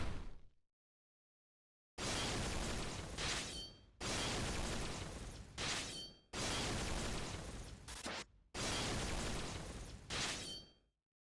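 The Rapid Fire attack in the Final Fantasy V video game lands as four loud, noisy bursts of hits in quick succession, each separated by a brief pause.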